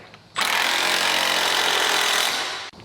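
A power tool whirs loudly and steadily for about two seconds while bolts are tightened to fit a hitch bar on a 2022 Ford Bronco, starting abruptly and cutting off sharply.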